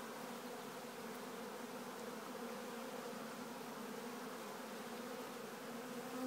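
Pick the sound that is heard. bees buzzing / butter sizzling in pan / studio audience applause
bees buzzing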